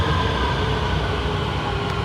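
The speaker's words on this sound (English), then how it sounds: "So that's not our train." A metro train runs through a station in Lanzhou with a loud, continuous rumble and a whining mechanical drone that stay at a steady level throughout.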